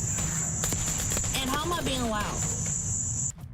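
Crickets chirp steadily and continuously through the background while a person speaks over them, with faint clicking and movement sounds mixed in.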